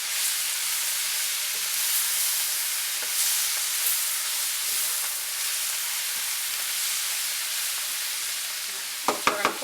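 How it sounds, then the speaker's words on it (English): Steamed cabbage sizzling and hissing in a pan as it is stirred, a steady loud broadband fry with faint scrapes and a few clinks of the utensil at the end. "We're going to take the lid off, stir it up, and see how everything tastes."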